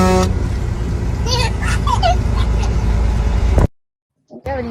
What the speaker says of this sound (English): you want to honk at Grandma?